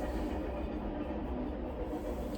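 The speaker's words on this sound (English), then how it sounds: "I'm pretty sure you can hear the train in the background." A train rumbles past at a distance, a low, steady rolling drone with faint rail clatter, continuous and unaccompanied by voices.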